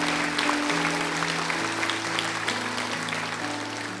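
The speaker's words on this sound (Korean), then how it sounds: "다시 한번 크게 박수 부탁드리겠습니다" A Sunday service congregation at Yeouido Baptist Church claps steadily during a mission conference, a dense, even wash of applause over sustained keyboard or organ tones that lasts the whole stretch.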